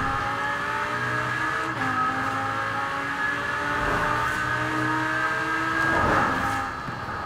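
Lamborghini Huracán V10 engine in Forza Horizon 4, a continuous loud engine note climbing and shifting through gears as it accelerates, with no voices.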